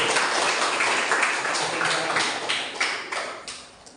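Applause from a class of students in an Islamic studies lesson, a dense wash of many hands clapping steadily for the whole stretch and tapering off slightly toward the end, fairly close and moderately loud.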